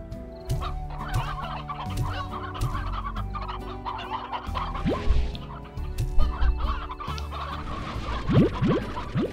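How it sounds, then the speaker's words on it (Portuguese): Chickens in the Slime Rancher video game cluck repeatedly in an overlapping flock, busy and fairly loud, with scattered squawks and clicks over continuous game background sound. "Então vai ser bom eu trocar a minha criação de galinhas normais por galinhas Stone."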